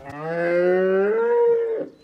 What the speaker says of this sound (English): John Lovitz's farm scene was constantly interrupted by mooing cows